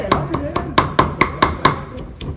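A knife mincing food on a board for a Vietnamese chả lá mơ meal, about ten sharp, evenly spaced chops close by, with people talking nearby.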